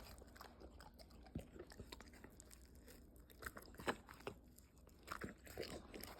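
A pitbull bites into and chews a piece of apple, giving several close, crisp crunches in irregular bursts with wet chewing between them and no talking.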